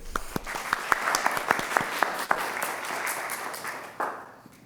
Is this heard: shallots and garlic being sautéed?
no